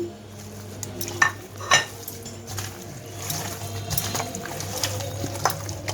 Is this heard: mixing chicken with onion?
yes